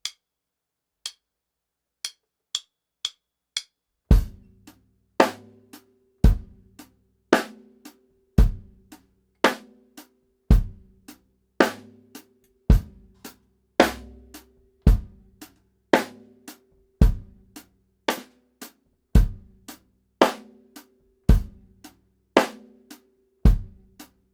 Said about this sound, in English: We're playing eighth notes on the hi-hat, 2 and 4 with a snare.